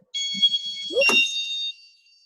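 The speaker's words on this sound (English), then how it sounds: "Little alarm." Small alarm beeps inside a recovery house near the back door. One steady, fairly loud high tone holds for about a second and a half and is overlapped by a low thump, like a door closing.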